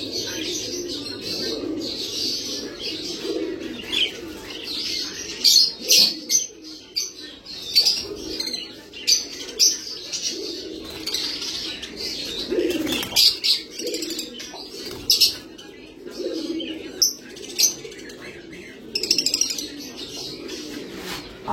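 Pigeons coo repeatedly in a rhythmic, throaty pattern at close range, with scattered chirps from other pet birds and a brief flutter of wings throughout.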